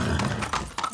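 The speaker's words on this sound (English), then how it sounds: "Look, it's Anton's fucking zebra. That's a horse and some paint." A horse painted as a zebra in the video game Far Cry 6 gives a short, snorting whinny with hoof clops, close and loud, lasting about a second.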